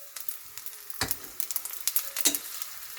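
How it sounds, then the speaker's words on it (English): Flour and egg coated chicken pieces frying in a hot pan, a close, steady crackling sizzle with sharper bursts as pieces are turned or added. "Frying them now"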